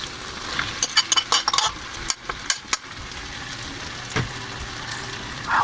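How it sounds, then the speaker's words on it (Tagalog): Potatoes or carrots go into a pan to sauté, giving a soft frying sizzle with a burst of clattering knocks and scrapes as they drop in and get moved around, then quieter sizzling. "Ato na ilunod ang patatas o carrots."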